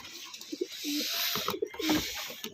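Racing pigeons coo softly outdoors before release for a training race, several low, throaty calls spread across a steady background hiss, with faint chatter mixed in.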